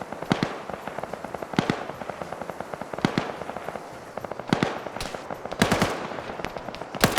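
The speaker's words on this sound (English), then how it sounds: "an RPK is trying to suppress up on this hilltop" RPK machine gun laying down suppressing fire on a hilltop in a military video game, repeated bursts of sharp cracking shots, some distant and some louder, spread irregularly across the whole stretch without talk.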